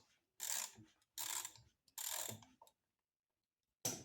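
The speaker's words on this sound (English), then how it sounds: "Let me get a 1/2 inch socket and we'll get started" Ratcheting 1/2 inch socket wrench working fasteners on a 91-year-old Maytag washing machine engine, three quick bursts of clicking ratchet strokes with pauses between them and a final short burst, close and alone.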